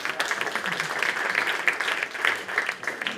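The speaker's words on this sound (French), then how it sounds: "On peut l'applaudir, oui." Steady applause from an audience, many hands clapping continuously at an even level throughout.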